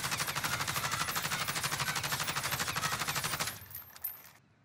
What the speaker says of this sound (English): aim right at the same spot, and shoot